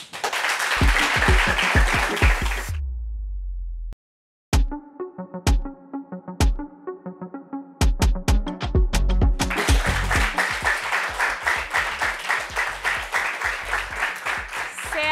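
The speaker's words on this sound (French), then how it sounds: "là on va applaudir pour elle et puis on revient tout à l'heure" A TV studio audience breaks into applause before a commercial break on a French talk show, with sustained clapping at the start and again swelling loudly toward the end, separated by a stretch of music and talk.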